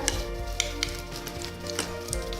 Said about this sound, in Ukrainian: і смажимо у фритюрі.